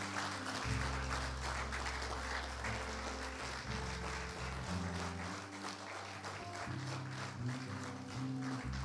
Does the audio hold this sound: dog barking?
no